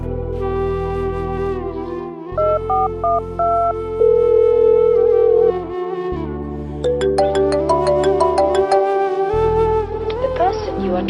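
A phone call ringtone plays loudly as a repeating melodic electronic tune, each phrase separated by short gaps, over several cycles that continue throughout.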